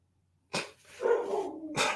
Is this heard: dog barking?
yes